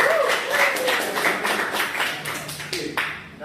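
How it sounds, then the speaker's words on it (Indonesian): Students in a classroom applaud two classmates, a few seconds of lively, uneven clapping that trails off toward the end. "Tepuk tangan untuk dua."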